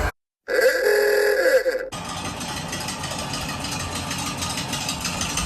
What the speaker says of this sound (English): Volkswagen Bug, old Herbie